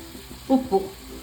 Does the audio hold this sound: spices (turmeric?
yes